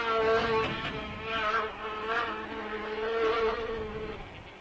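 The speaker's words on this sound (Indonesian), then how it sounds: "سمعت النحلة الإشارة فخرجت مسرعة من أذن العملاق بطشان وطارت بعيدا." A buzzing bee drones steadily in close range, its harmonic whine wavering slightly in pitch as it flies away, with no voices present.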